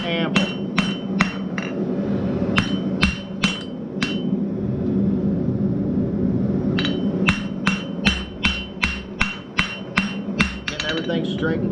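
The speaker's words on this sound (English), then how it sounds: "I'm just gonna square this up a little bit, just to keep it from rolling around on the anvil" Sharp metallic hammer strikes ring out on a hot steel punch over an anvil, coming in rapid bursts of evenly spaced blows separated by a pause, close and loud over a low background hum.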